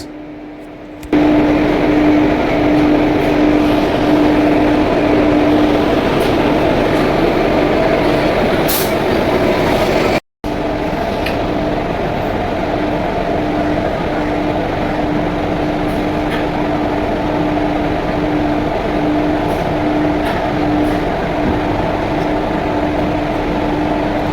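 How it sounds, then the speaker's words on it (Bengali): Aranyak Express train pulling out of Shalimar station: a steady, loud mechanical rumble with a faint tonal hum. It holds level throughout except for a brief dropout near the middle, with no voices. "7:45 আমাদের ট্রেন ছেড়ে দিল"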